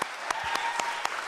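Audience applause for the chefs and sous chefs at the Bloomington Chefs Challenge cooking competition, a steady dense clapping with a few sharper claps standing out and a faint tone running underneath.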